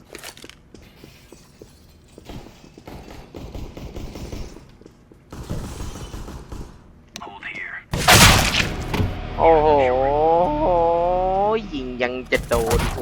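Gunfire in the shooter Counter-Strike: Global Offensive comes in sharp, scattered bursts and a loud crack, mixed with other game effects while a player talks in Thai.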